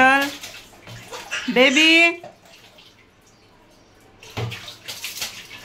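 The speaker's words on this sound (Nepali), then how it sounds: "चिसो चिसो पानीले नुहाउन यति धेरै खुसी हुन्छ नि।" A small child splashing and playing in cold bathwater, with bursts of watery splashing and dripping. A voice and the child's excited squeals are heard over it at close range.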